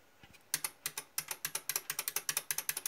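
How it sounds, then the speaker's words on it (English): A mechanical keyboard's left shift key clacks in a fast, rattly run of crisp clicks, close and fairly quiet, after a couple of softer taps at the start. "my shift key in the right sounds pretty different to the left one"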